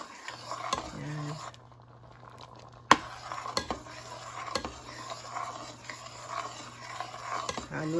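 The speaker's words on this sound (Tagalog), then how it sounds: "Halo lang ng halo." A spoon scraping and clinking against a pot while pork blood stew (dinuguan) is stirred, with repeated close metallic knocks, one sharp clack, and a faint sizzle and hum underneath.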